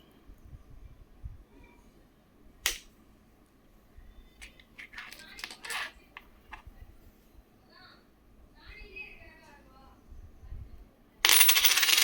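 Indian five rupee coins from the Kolkata mint clink and drop in a few sharp, scattered metallic taps, with small shuffling handling noises between them and a loud burst of noise at the very end.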